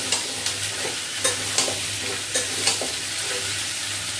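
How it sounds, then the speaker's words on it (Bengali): Potatoes and ridge gourd fry in a pan with a steady, close sizzle, broken by a few sharp scraping stirs of the spatula. "আলু আর ঝিঙেটা এর মধ্যে একটু লাল লাল করে ভাজবো।"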